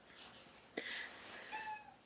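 A Siamese cat gives a couple of short, thin meows at close range, the first sharp and bright, the second a longer, softer tonal cry, with a low room hiss between them and no talking.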